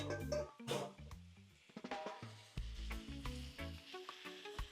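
Jerk-marinated shrimp sizzle in a hot pan, a close, continuous frying crackle with a few soft clinks, and no talking.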